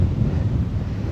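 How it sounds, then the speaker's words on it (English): Wind gusting outdoors beside a lake, roaring steadily against the microphone as a low, continuous rumble with a faint wash of water beneath it, no voices. "Look at these leaves blowing in this wind."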